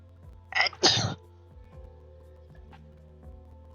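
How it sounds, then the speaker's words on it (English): A single loud sneeze bursts out near the microphone, a sharp intake then a forceful expulsion, followed by a quiet room with faint low hum and small rustles. "Sorry, I had to sneeze."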